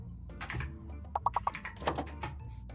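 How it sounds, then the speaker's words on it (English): Fast, irregular clicking of keys on a computer keyboard, fairly close and steady, with a few louder clustered taps mixed in against a low background. "You're gonna hear me typing a lot"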